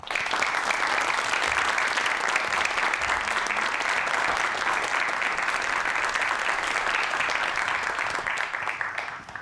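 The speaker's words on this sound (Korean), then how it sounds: "남학현 사장님, 큰 박수로 환영해 주세요" A studio audience at a televised science lecture claps loudly and steadily for about nine seconds to welcome the speaker onto the stage, fading slightly at the end.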